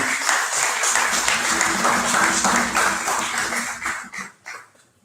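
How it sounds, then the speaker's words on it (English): A crowd at an organisation's fifth anniversary ceremony claps in a dense, loud, sustained burst that thins and dies away over the last second. "We'd like you to give them a round of applause for the work they're doing"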